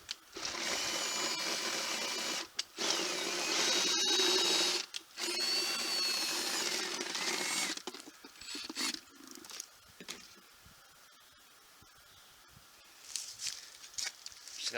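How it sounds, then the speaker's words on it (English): A power drill spinning an oiled cylinder hone whirs steadily at lowest speed for several seconds, then stops, leaving quieter handling noises and brief bursts of motor sound, deglazing a Honda CRX SOHC engine cylinder. "I'm just going to take a little bit of oil on the lowest speed of the drill here."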